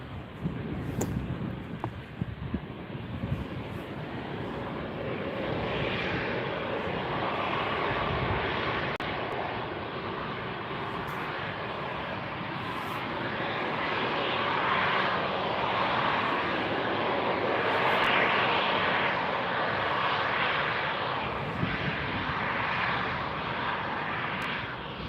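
An airliner takes off at Stockholm Arlanda Airport, its jet engines giving a loud, steady roar that swells gradually over about 25 seconds, with wind buffeting the microphone.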